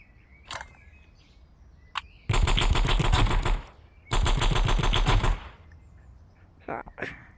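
Two long bursts of rapid automatic AK-47 fire from the video game Animal Rivals rattle loud and close, each lasting about a second and a half, with a few scattered single shots and clicks before and after.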